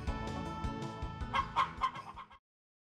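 Chicken clucking in a Harvest Moon farming video game, a quick series of rhythmic clucks rising and falling before cutting off into silence, fairly faint under game audio.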